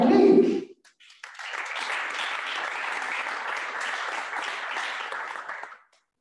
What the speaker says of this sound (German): Ein großer Applaus für StyleLink.